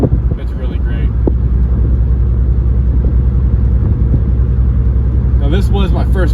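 A 1967 Ford Mustang convertible cruises along with a loud, steady low engine rumble and wind buffeting the microphone, while someone talks over it.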